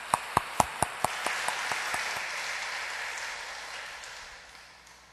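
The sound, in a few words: church congregation applauding to welcome the preacher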